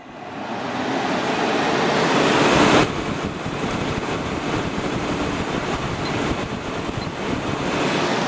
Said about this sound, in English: let's just go to fan only for now.